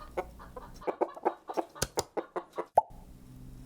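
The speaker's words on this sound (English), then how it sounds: "chicken." A farm chicken clucks in a quick, uneven series of short, sharp notes, close and distinct, ending on one brief higher squawk with faint background noise.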